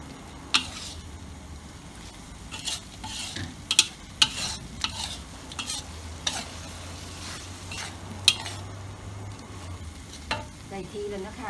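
Pork neck is stir-fried with oyster sauce in a pan for a spicy Thai-style dish, giving a steady low sizzle broken by sharp scraping taps of the utensil against the pan at irregular intervals.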